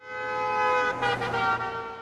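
A car horn blares in a long sustained honk with a brief wavering pulse in the middle, loud and close, no one speaking.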